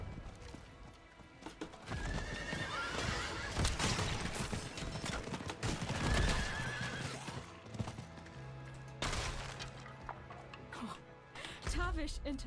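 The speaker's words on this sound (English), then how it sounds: "Back on the old horse." A horse in the Diablo 4 video game gallops with steady clip-clopping hooves and gives loud whinnies, mixed with game sound effects and low musical tones.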